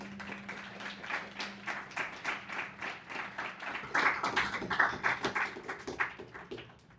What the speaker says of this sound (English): A big round of applause and love for him